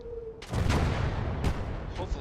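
A captured artillery piece fires in Gates of Hell: Ostfront, one heavy booming blast with a rolling rumble, then a second sharper report, close and loud.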